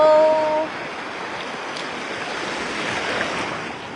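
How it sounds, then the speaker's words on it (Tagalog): Big ocean waves break on a beach, a broad rushing roar of surf that swells and recedes with wind buffeting the microphone, after a brief faint tonal sound at the start. "Oh, grabe yung wave dito."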